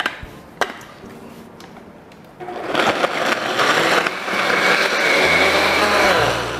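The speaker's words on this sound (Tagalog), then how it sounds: "And then, into the blender." After a few knocks and clinks, an electric blender starts up and whirs loudly and steadily, churning laksa paste ingredients with water and oil, its motor pitch shifting slightly as it runs.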